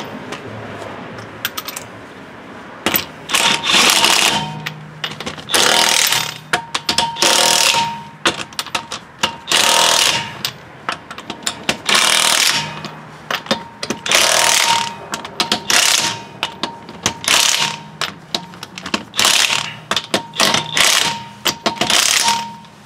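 A worn socket wrench ratchets on a part of a 2008 Nissan Armada during a no-heat repair, in loud, close bursts of rapid clicking separated by short pauses, with no talk over it.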